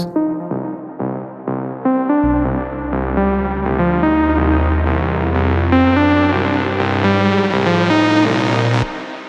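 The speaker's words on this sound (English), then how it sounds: "this is our main lead sound, and in the build-up it sounds like this." A bright, buzzy synthesizer lead in a melodic techno build-up plays a rising run of notes over a sustained low bass tone, with echoing repeats between the notes.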